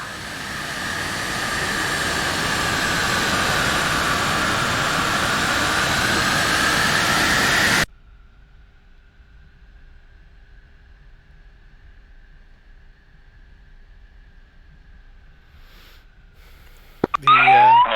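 Jet aircraft spooling up for takeoff in the DCS flight simulator game, a loud broadband roar with a whining tone that swells for about eight seconds, then cuts to a faint steady whine and a brief burst near the end.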